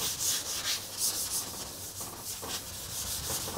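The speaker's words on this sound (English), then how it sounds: "just grey Scotch-Brite. Give that a scuff up" Grey Scotch-Brite pad scuffing a surface before paint, a dry rhythmic rubbing rasp in quick repeated strokes, close and steady.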